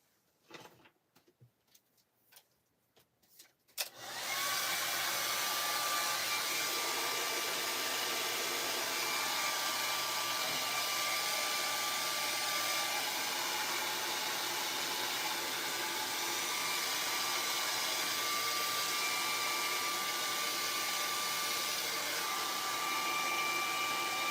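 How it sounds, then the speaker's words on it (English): A blow dryer runs steadily, close and loud, drying freshly painted bird artwork on a masterboard, with a continuous whooshing roar after a few seconds of quiet handling noises. "I'm just going to dry it quick with the blow dryer."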